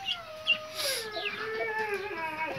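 A rooster penned apart from the hens on a small poultry farm gives one long, wavering call that holds steady at moderate distance, with faint farmyard noise underneath.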